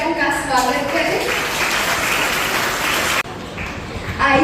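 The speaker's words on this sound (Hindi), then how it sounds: "तालियों से हमारे निर्णायक का स्वागत करें" An audience at a school Hindi speech competition applauds to welcome the judge, a dense, fairly loud burst of clapping that cuts off abruptly, with a speaking voice before and after it.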